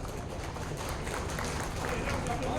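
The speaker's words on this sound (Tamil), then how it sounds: "ஒரு பெரிய கரகோஷத்தோடு தெரிவிக்கலாம்" An audience at a real estate conference applauds, a steady, dense wash of many hands clapping together, with voices mixed in.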